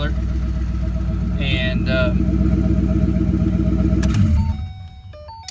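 On3 Performance Coyote twin-turbo V8 car engine on a trailer, revving loud and close for several seconds with a steady growl, then dropping off toward idle; a voice is briefly heard.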